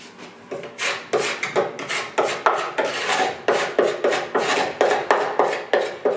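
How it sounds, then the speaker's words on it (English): A scraper rasps over old chipped paint on a wooden coffee table in steady, repeated strokes about twice a second, loud and close, with no talking. "So I'm just scraping in any direction, it really doesn't matter."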